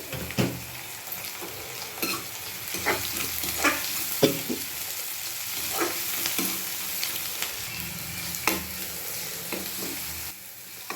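Ginger garlic paste frying in oil with onions and green chilies, a steady close sizzle broken by scattered sharp clinks and scrapes of a stirring spoon against the pan, with no talking.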